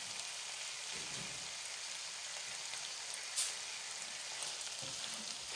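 Chicken and vegetables fry in a pan as noodles go in, a quiet even sizzle with a small clink partway through and no talking.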